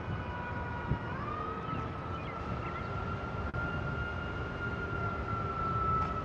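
Police car siren on the National Mall in Washington, DC, a steady wailing tone that stays fairly distant and moderately faint over continuous outdoor street ambience.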